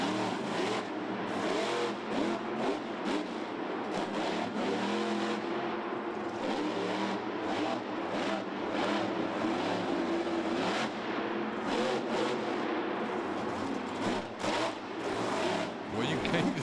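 A loud, powerful monster truck engine roars and revs continuously at a Monster Jam freestyle event in the Georgia Dome, Atlanta, its pitch rising and falling, with voices talking over it.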